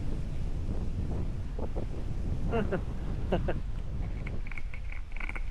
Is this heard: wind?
yes